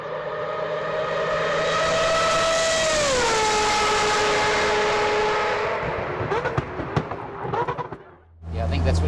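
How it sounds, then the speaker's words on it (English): Mazda 20B rotary race engine screaming down the Mulsanne Straight at Le Mans, a loud high-pitched wail that drops in pitch at a shift, followed by crackles, pops and a final deep burble. "if you want to really enjoy the sound of a Mazda Rotary, listen to this. Mulsanne Straight, Le Mans, 20B Rotary."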